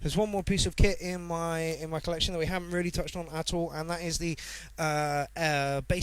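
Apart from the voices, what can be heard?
No everyday noises stand out.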